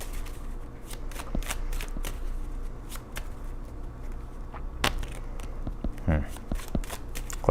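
Tarot cards shuffled during a Capricorn reading, giving a continuous papery riffling and flicking with scattered sharper snaps, close and steady throughout, with faint voice-like sound beneath.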